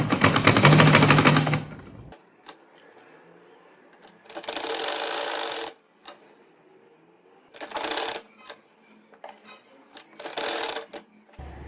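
An electric sewing machine stitches the poncha of a salwar in bursts, a long run followed by several shorter whirring spells with quiet gaps between.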